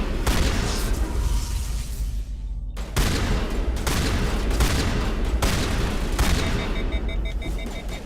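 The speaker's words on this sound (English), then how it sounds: "Let's pick up my shotgun and have a little fun." Shotgun blasts in a video game, a dense run of loud booming shots and bursts packed closely together over game noise, with brief gaps between volleys.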